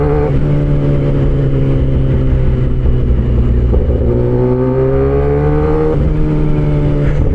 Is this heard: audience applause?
no